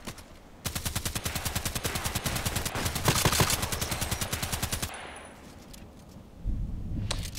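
EBR marksman rifle firing in a video game, a long unbroken string of sharp, evenly spaced shots at close range, loud and alone, ending in a short pause before more noise.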